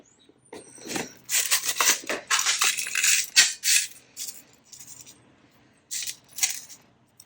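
Small metal brads rattle and clink in bursts inside a container, a few separate shakes of bright jangling with brief pauses between.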